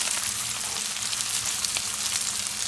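Potatoes, onions and green peppers fry in a pan, with a steady, close hissing sizzle and faint crackles throughout and no talking.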